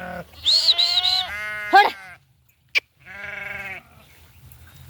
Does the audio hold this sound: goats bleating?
yes